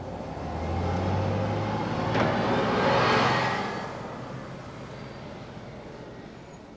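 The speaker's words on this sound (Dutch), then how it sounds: "De volgende dag gaan Karin en Jan met de bus naar het bos." A bus drives along toward a forest, its engine a steady low rumble with broadband road noise that swells as it passes close around the middle and then eases off, with no voices.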